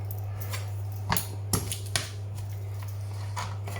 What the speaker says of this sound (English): So I'm just going to crush them, not even going to cut them up.